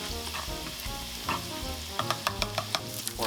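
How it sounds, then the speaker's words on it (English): Broccolini sautéing in a hot pan with butter, a steady close sizzle with a few sharp clicks of stirring near the end, no voices. "Once these are starting to brown, I like to put the broccolini in"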